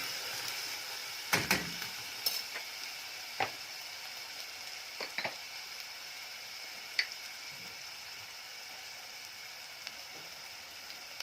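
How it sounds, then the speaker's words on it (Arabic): Quiet sizzle of a medium onion frying in very hot ghee in a pan, a steady soft hiss broken by scattered clicks and light clatter of stirring, with no talking. "هستنى كده عندي لما السمنه تسخن قوي، هنزل ببصله"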